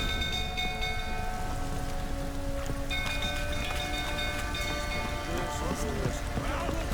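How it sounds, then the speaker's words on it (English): Rain patters steadily over a rumbling background in The Witcher 3: Wild Hunt, with faint tonal hums and occasional sharper drips. "Looks like rain."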